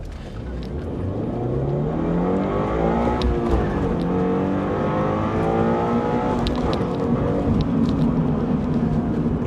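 A 2022 Subaru BRZ with a manual gearbox revs up hard and climbs steadily in pitch through the gears, loud and close, with a continuous roar throughout.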